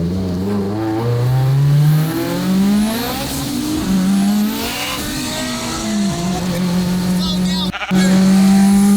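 A Ferrari in a car giveaway race revs hard with loud, repeated rising and falling engine pulls, accompanied by people talking throughout.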